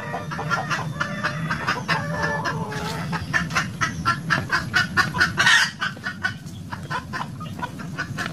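Native chickens cluck in a barnyard after a night of flooding, with a steady run of close, overlapping clucks that swell into a rapid, louder burst before settling into softer calls over a low background hum.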